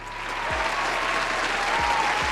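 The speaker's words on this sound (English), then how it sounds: "Give her a round of applause." An audience breaks into applause, steady dense clapping from a crowd filling the moment at full loudness, with a faint tone beneath and no clear speech.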